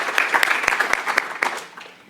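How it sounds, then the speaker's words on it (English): An audience at a venture showcase bootcamp claps in a brief, dense burst of applause that fades out over about two seconds. "another round of applause"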